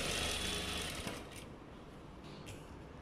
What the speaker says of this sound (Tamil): தைச்சிட்டு இப்போ திருப்பி வெட்டிட்டு திருப்பி தைக்கிறேன்